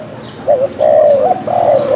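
A wild dove coos in Phú Yên, giving a short soft call and then two longer, loud, rolling coos close by, with no voices present.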